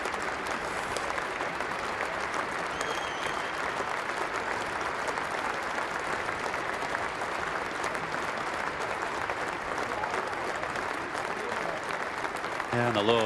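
Sustained applause from a large Lord's cricket crowd of Middlesex and Yorkshire supporters at the 2016 County Championship decider, steady dense clapping throughout with a slight swell at the end.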